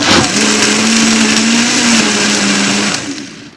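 A blender whirs loudly and steadily while chopping sauce, its motor holding a constant pitch, then winds down and stops at the end.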